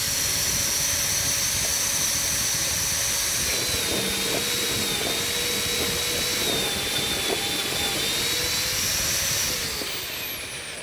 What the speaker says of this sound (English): drop in the electric planer, close the gate, and bring power up to the planer